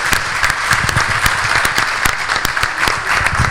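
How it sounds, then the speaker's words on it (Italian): An audience applauding a youth football team at a sports gala, close, loud clapping with distinct individual claps standing out from the steady crowd patter throughout. "facciamo un applauso a questi ragazzi"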